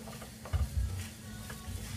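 Food frying in a pan, cooked through on the stove: soft sizzling with a few louder scraping and stirring bursts, close and moderately quiet, no talking.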